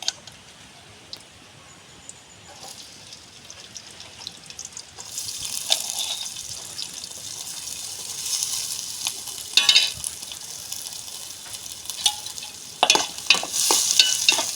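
Onions, green chillies and curry leaves fry in oil for a village-style dried fish curry, a quiet start giving way to a steady sizzling hiss with a few louder bursts and stirring sounds, no talking.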